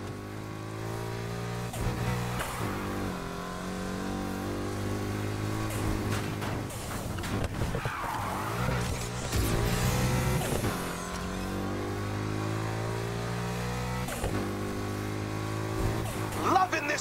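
Ford race cars roar through a Need for Speed Heat street race, engines revving hard and shifting pitch continuously, loud and close, with brief tire squeal among the engine noise.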